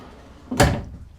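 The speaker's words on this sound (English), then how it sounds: "And a drawer." A single short slide and thud of a drawer opening inside a Grand Design Reflection luxury camper, close and fairly loud against a quiet room.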